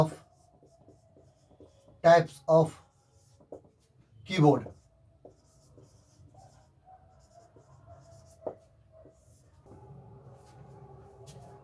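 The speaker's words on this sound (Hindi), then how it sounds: "जो अभी मैं आपके इस बोर्ड पर लिख रहा हूँ" Marker strokes on a classroom board during a lesson on keyboard types: faint, steady scratching and squeaking runs under a man's spoken explanation.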